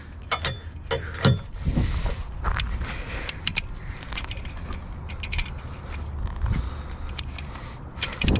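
A winch pulls a newspaper vending machine out of a river, with irregular metallic clanks, rattles and ratcheting clicks scattered over a low rumbling background, sometimes bunched and sometimes spaced apart.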